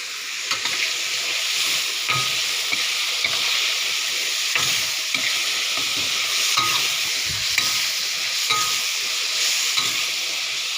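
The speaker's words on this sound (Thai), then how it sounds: "อันนี้ทอดจ้า" June beetles deep-frying in hot oil give a loud, steady sizzle with a constant hiss and scattered pops, close up and alone.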